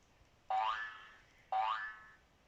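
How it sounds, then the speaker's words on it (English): Two springy cartoon boing sounds from a bouncy ball, spaced about a second apart, each a quick rising wobble that fades out, clear and alone against quiet background. "The bouncy ball makes a boing boing sound."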